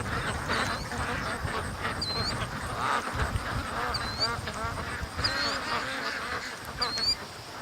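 Muscovy ducks fly in and call outdoors, giving repeated quacks and honks, moderately near, over steady background noise, with a person talking over them.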